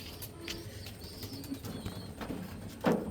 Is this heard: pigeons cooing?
yes